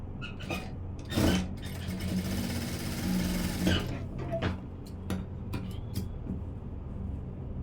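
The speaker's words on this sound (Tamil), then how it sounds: "நான் இதுக்கு இன்னொரு தையலும் இப்போ போட்டுடலாம்" A sewing machine stitches the front part of a blouse in a fairly quiet room, running in short bursts with a steady mechanical whir and clicks, and no talking.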